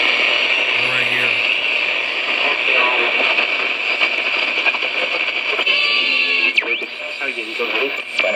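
A solid state battery radio with external wires attached plays steadily and fairly loud throughout, its broadcast sound continuous with some changing content and a faint speaking voice mixed into the broadcast.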